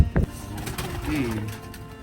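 Pigeons coo softly in a loft, a low burbling call rising in the middle, with a brief knock near the start and faint background noise.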